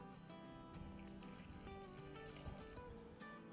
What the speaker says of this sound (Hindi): इसमें अब हम डाल देते हैं थोड़ा सा पानी